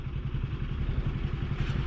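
A loaded Hero Splendor motorcycle struggles out through snow on the high Tanglang La pass of the Manali–Leh highway, its engine chugging in a steady low putter at moderate distance, with no voices.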